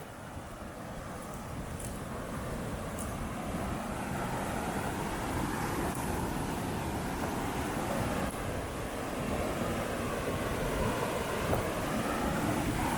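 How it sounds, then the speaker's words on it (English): Steady, heavy roar of water rushing through a dam, constant and broadband with some wind buffeting the microphone; no voices. "Look at all that water. That's a lot of water power."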